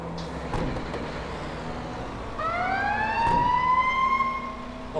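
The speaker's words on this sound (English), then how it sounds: "Oh, that siren sounds so good." An emergency vehicle siren in the video game GTA 5 starts up over a low engine rumble, its tone sweeping upward strongly and holding loud and near, with no talk over it.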